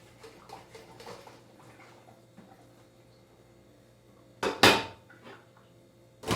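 Water from a pot of boiled brussels sprouts is drained off, with a couple of loud metallic pot clatters and splashy bursts near the end after a quiet stretch.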